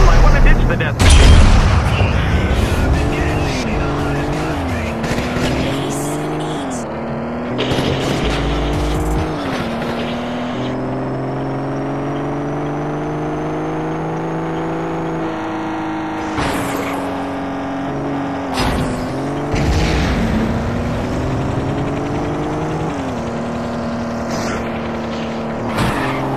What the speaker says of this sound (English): Driving a tank into Vegas seems like a bad idea.